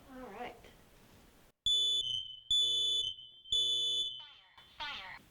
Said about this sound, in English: the other thing that we need to check for safety items in here are the smoke detectors